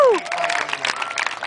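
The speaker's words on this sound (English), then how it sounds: "Give a nice big round of applause." Audience applause with cheering at a live show in Llandudno, a brief burst of dense clapping mixed with a voice, close and fairly loud.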